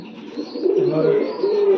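Racing pigeon cooing up close, a single low rolling coo rising and swelling over under two seconds, clear and fairly loud.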